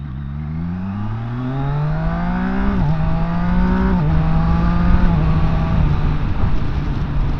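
A Zontes 703RR sports motorcycle engine climbs from idle toward its 6,000 RPM cap, a loud, close whine rising in pitch, then holding steady with small dips and surges throughout.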